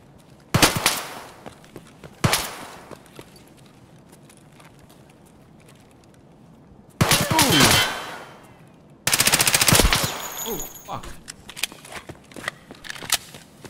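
Gunfire in a first-person shooter video game: a few sharp single shots early on, then two long, loud bursts of rapid automatic fire, followed by scattered quieter shots and clatter.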